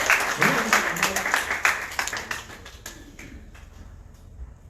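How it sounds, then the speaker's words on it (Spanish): A church congregation gives a welcome round of applause, a moderate spread of claps that fades gradually over several seconds, with a voice talking over the start. "Un fuerte aplauso"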